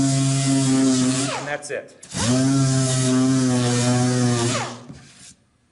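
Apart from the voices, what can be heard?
power sander sanding wooden chest stiles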